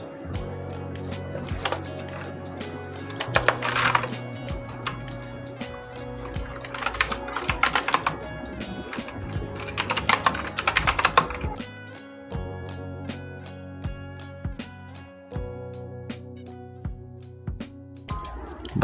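Keys on a computer keyboard clatter in quick irregular bursts while text is typed during Photoshop design of a church flyer, with steady background music running underneath throughout.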